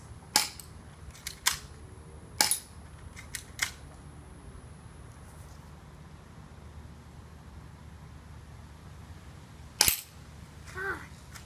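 Walther PPQ airsoft pistol fired outdoors, a quick string of sharp snapping cracks followed by a lone shot after a pause, close and crisp over a faint steady background hiss.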